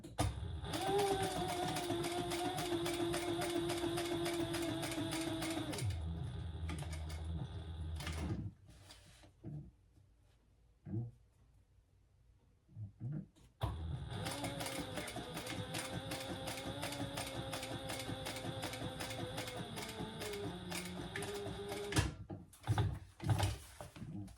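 Sewing machine stitching a shoulder bag: two long runs of steady, rapid mechanical whirring, close and moderate in volume, separated by a quiet pause with small clicks and handling sounds.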